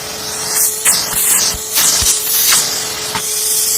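A Bosch GAS 15 PS vacuum cleaner runs steadily with a loud, broad rushing hiss and a constant motor hum, punctuated by a few sharp knocks and rattles.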